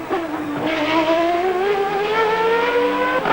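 A 1991 Formula 1 car screams through the end of a qualifying lap in Australia, its high engine note rising steadily and loud and close throughout, with no talk over it.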